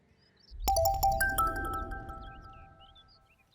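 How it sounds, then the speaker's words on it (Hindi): A mobile phone ringtone sounds suddenly, a clear melodic chime that rings out and slowly fades over a quiet, low rumbling background in a TV drama scene. "सोमी का फोन।"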